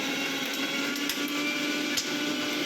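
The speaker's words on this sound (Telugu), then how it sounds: "మిక్సీ జార్లో తీసుకొని మిక్సీ చేసుకుంటున్నాను" A mixer grinder grinding cumin and dried red chillies for coriander chutney whirs continuously at high speed, a loud steady motor drone with faint rattling from the jar, no voices.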